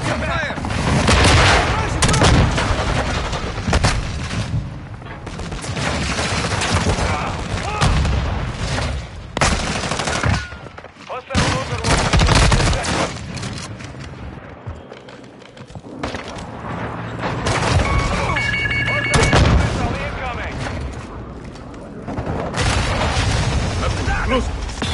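A video game battle keeps up dense, continuous gunfire and heavy booms for the whole stretch, loud and close, with voices shouting over the noise.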